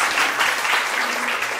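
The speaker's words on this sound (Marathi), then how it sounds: "जोरदार टाळ्या वाजव त्यांच्या पाठीसाठी." Audience applause at a Marathi book launch ceremony, a dense steady patter of many hands clapping close and loud for the whole moment, with no talk over it.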